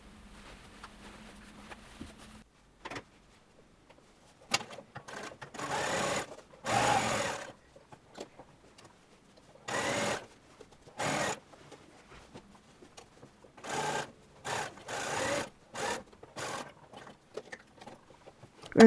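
A sewing machine top-stitching the rever collar of a shirtwaister dress runs in several separate bursts of stitching, each lasting about a second, with quiet handling and pauses between runs.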